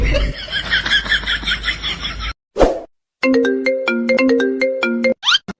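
A mobile phone ringtone plays loud and close as a repeating, stepped electronic melody for about two seconds, following a stretch of chatter and a brief pop.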